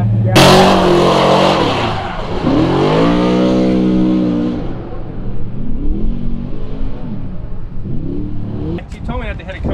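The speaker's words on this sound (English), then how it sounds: "you just stand on the throttle and drive out of it" A 2021 Ford Mustang RTR on a track with cones accelerates hard out of a corner; a loud engine roar climbs in pitch, then eases and drops away, close to the microphone.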